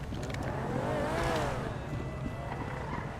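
Car engine revving and pulling away in GTA Online, a steady loud motor with a rising then falling pitch sweep over about three seconds, alone without talk.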